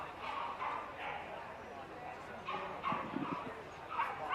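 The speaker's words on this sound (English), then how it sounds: "Now we have the Kerry Blue Terrier." A Kerry Blue Terrier at a championship dog show gives a few short yips and barks, moderately close, under steady talk from an announcer.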